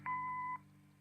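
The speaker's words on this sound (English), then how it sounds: "Leave a message after the beep." A half-second answering machine beep in the video game Kathy Rain, a steady two-tone electronic tone over a low hum that stops abruptly.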